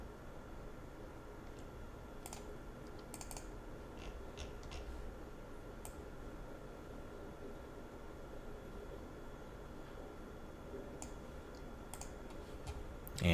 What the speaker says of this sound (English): And I'll click open.